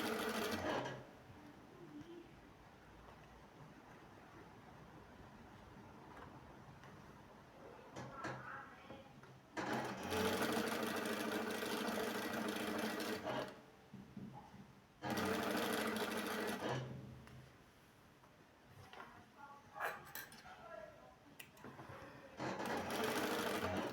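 A domestic sewing machine stitches patchwork fabric blocks in several bursts of rapid whirring, separated by quiet pauses with small handling clicks, close up and without speech.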